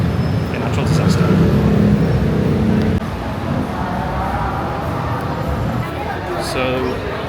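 Gridlocked traffic in central Bangkok after an earthquake, a steady dense roar of idling and creeping vehicles with occasional higher engine and horn-like tones, fairly loud and continuous throughout.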